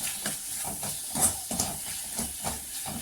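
Ingredients for black chana curry sizzling and hissing as they are sautéed in a pan, a steady close frying crackle with soft scraping stirs at intervals and no talk.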